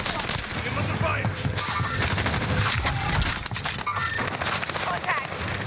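Dense video-game gunfire from a military sniper shooter rattles almost continuously at close range, loud bursts and rapid shots overlapping with game radio chatter and voices.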